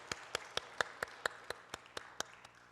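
Churchgoers at a Sunday service clap for the worship team in an even rhythm of about four claps per second, sounding distinct and somewhat distant.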